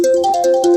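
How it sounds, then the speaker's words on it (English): A phone ringtone plays loud and close, a short electronic melody of sustained tones shifting pitch in a repeating pattern. "That's my phone."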